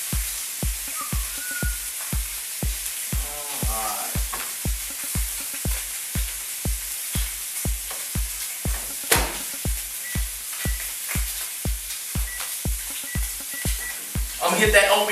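Tilapia fries in a pan with a continuous soft sizzle, overlaid by a steady rhythmic low thumping and a few brief clinks and scrapes nearby.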